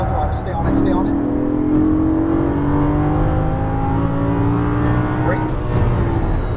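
A Lamborghini Gallardo LP550-2 engine revs loudly on a racetrack, its pitch climbing steadily under hard acceleration. A driving instructor talks over the engine note throughout.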